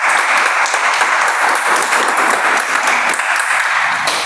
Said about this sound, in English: Can we give one more round of applause to Akhil?